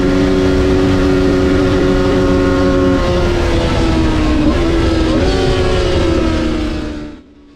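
A race motorcycle engine on a warm-up lap, a loud, steady, close drone that shifts pitch slightly as it holds speed, then fades out sharply at the end.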